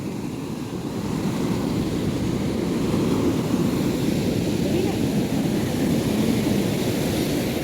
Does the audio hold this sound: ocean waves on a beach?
yes